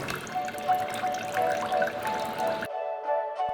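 Dirty water is poured again and again over a homemade desi water filter, a continuous splashing trickle that then drips through. The pour cuts off near the end, leaving a quieter, thinner drip and faint ringing.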